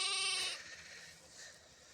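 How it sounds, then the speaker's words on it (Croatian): A single loud, close sheep bleat from a village flock rings out for about half a second, then fades into quiet ambient noise. "Pogledajte lijepo stado našeg Hadžija Rame,"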